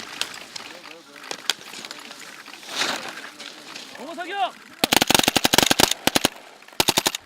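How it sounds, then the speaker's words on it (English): Gunfire during special forces winter training, rapid loud bursts of automatic shots in the second half after a stretch of outdoor ambience and voices, with a final short burst near the end. "After coming downhill, smoke bombs are used to throw the enemies into confusion, and they continue shooting."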